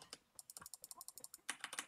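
Rapid, close keyboard and mouse clicking during gameplay, a dense burst of sharp taps with a brief pause before another flurry, with no talking.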